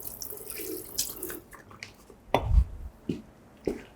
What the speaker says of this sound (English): I'm just back rinsing it.